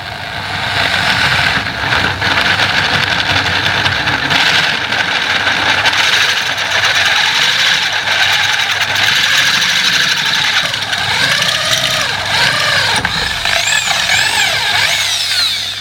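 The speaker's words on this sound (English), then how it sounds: "We're going to keep it nice and square, and we're going to drill that hole out." A power drill runs steadily for a long stretch, boring out a damaged threaded hole on a bicycle frame. The drill is loud and close, with a continuous whine and pitch wobbling toward the end.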